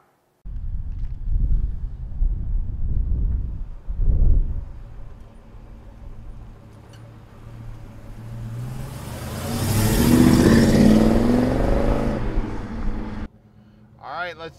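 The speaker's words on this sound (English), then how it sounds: "Let's take a 66 for a ride. Of course, the 4-speed is my favorite. Got a big block in it, that's cool." A 1966 Chevrolet Chevelle SS396 with a big-block V8 and 4-speed manual under way, its engine rumbling, then building to a loud rev before cutting off, with a voice heard early on.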